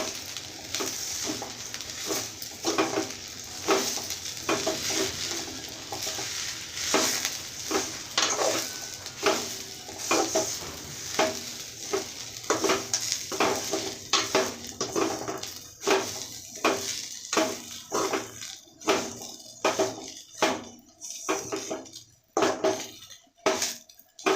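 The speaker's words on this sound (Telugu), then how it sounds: "బాగా వేయించుకోవాలి కొద్దిసేపు" Fresh drumstick leaves frying in a pan while being stirred, with repeated scraping and clinking of a utensil against the pan over a steady sizzle, close and fairly loud.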